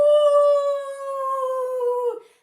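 A person imitates a dog howling at the moon, one long sustained, clear, tonal howl close by that holds steady, then slides down and breaks off at the end.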